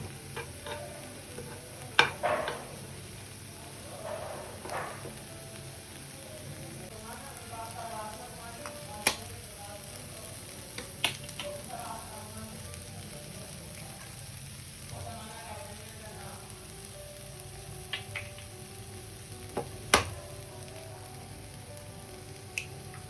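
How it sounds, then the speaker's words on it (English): Eggs fry quietly in a covered pan at low volume, a faint steady sizzle broken by scattered sharp ticks and clinks of utensils over about twenty seconds. "Cover and cook, but do not flip the eggs because we want them sunny side up"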